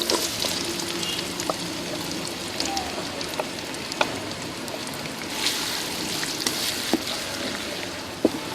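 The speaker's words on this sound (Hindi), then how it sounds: "घी हमारा गर्म हो गया, इसमें प्याज शामिल करेंगे।" Onions frying in hot ghee give a steady, busy sizzle with scattered pops and crackles, heard alone at moderate loudness.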